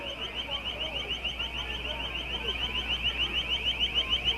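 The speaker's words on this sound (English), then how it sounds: "We're still hearing that piercing siren sound." Piercing siren at a police scene, a rapid warbling electronic wail pulsing steadily and continuously, moderately loud over a low background rumble.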